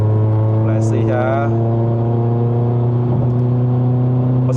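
A Mercedes-Benz C180 AMG Line W205 engine revving under partial throttle during a test drive in Malaysia, a loud steady droning hum heard from inside the cabin, with a person speaking briefly over it.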